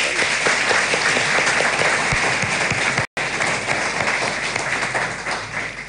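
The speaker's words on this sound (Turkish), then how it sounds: "Başkanımıza bir alkış evet, gönderelim." A television studio audience applauds a town mayor, a loud, dense and continuous burst of many hands clapping, briefly cut out for a moment near the middle before resuming and slowly easing.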